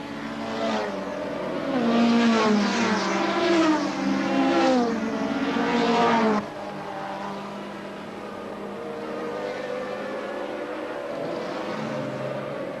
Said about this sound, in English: The revs are kept nice and high, drivers determined to avoid the embarrassment of a stall on the line.